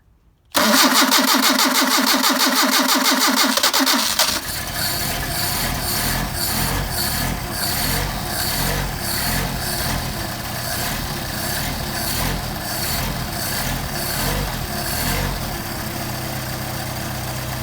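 A Solex moped's small engine, after sitting unused for a couple of days, sputters to life with a loud, rapid rattle, then settles into a steady, buzzing idle that carries on evenly.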